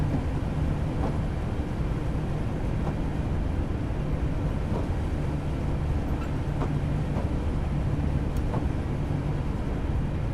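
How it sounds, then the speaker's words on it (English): A Class 483 electric train in Train Simulator 2016 runs under power on the Shanklin to Ryde Pier Head line, giving a steady, loud cabin drone and rumble with faint periodic clicks of wheels over rail joints. "once the train slows to around 35, I'm then going to put the power handle all of the way back on again"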